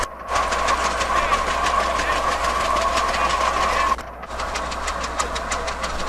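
Antique tractors run with engines wide open, pulling a 50-bottom plow at a plowing event; a steady, loud mechanical drone with rhythmic clatter continues throughout, dipping briefly near the end.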